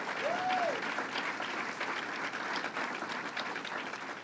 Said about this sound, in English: Let's give him a big round of applause and thank him very much.